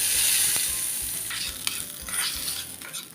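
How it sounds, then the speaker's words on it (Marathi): Cumin, mustard seeds, asafoetida and curry leaves hitting hot oil for a tomato chutney tempering, a loud bright sizzle and crackle with small pops, close and without voices. "मी जिरं अर्धा चमचा अर्धा चमचा राई आणि थोडीशी हिंग पावडर आणि कढीपत्ता घालतो आणि आपण वरून चटणीला तडका देऊया"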